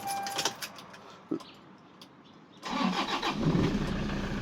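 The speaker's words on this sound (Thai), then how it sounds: "เป็นไงครับสตาร์ทติดง่ายนะครับ" A few faint key jingles and clicks, then a 2003 Toyota Hilux Tiger D4D diesel pickup engine cranks and catches, settling into a steady close idle rumble.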